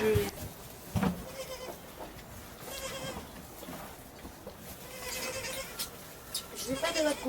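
Goats bleat at a farm called Candelon, several short calls spread through the clip, some near and some farther off, over a murmur of background noise and occasional voices.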